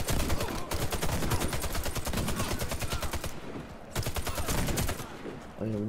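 Dense rapid automatic gunfire from the shooter game WarFace rattles in long bursts with a brief pause in between, loud and close, with game effects at the end.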